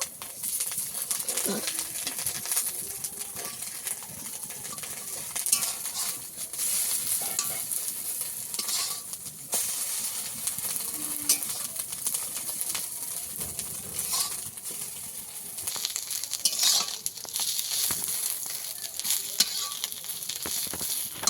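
Egg pieces frying in oil in a pan, browning with a constant crackling sizzle, plus intermittent spatula stirs and knocks over the whole stretch.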